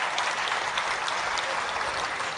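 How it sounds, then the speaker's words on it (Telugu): A crowd at a Hindu gathering applauds loudly and continuously, with dense clapping filling the whole moment. "మీ అందరికి ఒకసారి చప్పట్లు కొట్టుండి"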